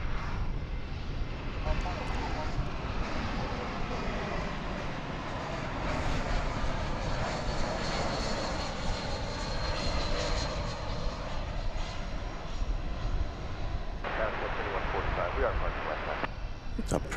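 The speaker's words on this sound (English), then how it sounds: "American Flight 1913 arriving from Austin on an Airbus A320" An American Airlines Airbus A320 jet airliner arriving from Austin at DFW Airport rumbles with a continuous, broad engine roar that stays fairly steady from a distance throughout.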